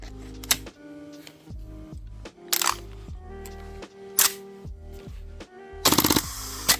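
A gas blowback airsoft rifle fires outdoors at -7°C in short spaced bursts, sharp mechanical cracks, then a final quick rapid string of shots, over a background of steady tones.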